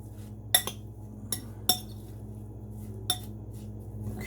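A utensil stirring tabbouleh in a bowl gives a handful of sharp, separate clinks and knocks, close but sparse, against a low steady background hum.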